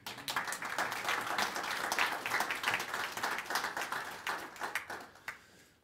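Applause from diners at a Platinum Jubilee celebration dinner for the Queen, a dense steady patter of many hands clapping that carries on for several seconds before thinning out at the end.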